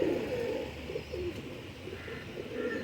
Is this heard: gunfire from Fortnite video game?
no